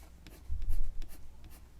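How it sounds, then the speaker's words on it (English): A burnt ochre colored pencil scratching streaky lines on paper, several quick close strokes with a firmer, louder pass in the middle, alone without talk. "I am going to start making streaky pencil lines"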